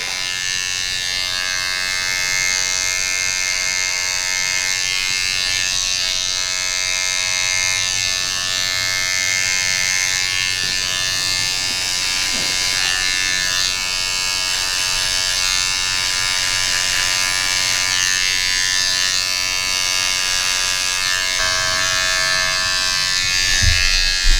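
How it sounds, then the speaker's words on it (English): An electric hair clipper hums steadily and close while retracing a design line in a fade haircut, a continuous buzzing drone that barely wavers, with a brief louder bump at the very end. "just retracing it with your clipper"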